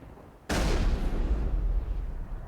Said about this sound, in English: It's just Rex shooting.